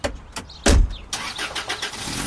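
A car engine cranks and catches with a loud burst, then revs as the vehicle pulls away, engine noise rising and settling close by with no voices.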